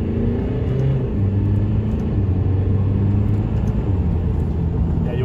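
An Alfa Romeo Giulia turbo engine pulls away from a standstill, a steady loud rumble with a rising engine tone heard from inside the car.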